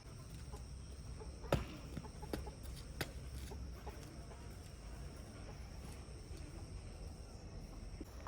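Jawa rooster and country chickens in a farmyard clucking softly at a distance, with a few sharper knocks over steady low background noise.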